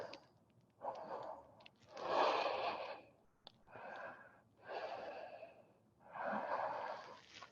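Slow, deep yoga breaths taken during a held pose, four or five long audible inhales and exhales close to the microphone, each lasting about a second, with quiet gaps between them.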